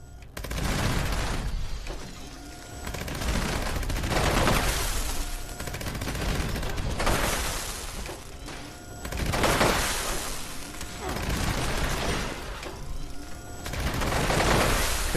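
Turret gunfire in Fallout 76 pours out as sustained rapid bursts that swell and fade in waves, loud and dense, with booming impacts mixed through.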